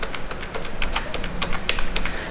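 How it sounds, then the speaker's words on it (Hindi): A mobile number is typed on a computer keyboard as a quick, uneven run of close, crisp key taps with no talking. "तो मैं यहाँ पर दोस्तों एक मोबाइल नंबर को जो है फिल कर देता हूँ"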